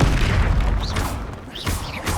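A Confringo explosion spell in the Hogwarts Legacy video game, with loud, close booms and bursts following one another in a dense, continuous stretch of combat noise.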